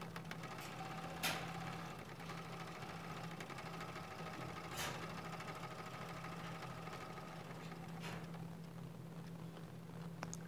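A sewing machine runs steadily with pink thread, zigzag-stitching embellishments onto a junk journal cover made from a manila file folder and denim. A constant close mechanical hum continues throughout, with a few sharper ticks and no talk.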